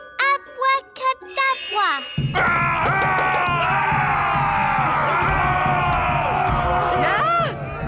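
Cartoon Vikings run around shouting and whooping in a rowdy, overlapping clamour of voices, preceded by a few short tinkling musical notes.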